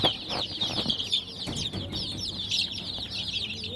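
A crowd of newly hatched chicks fresh from an incubator peep constantly in dense, overlapping high chirps, close and continuous, with light rustling underneath.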